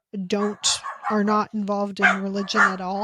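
Dogs bark in several short bursts in the background while a person keeps talking over them.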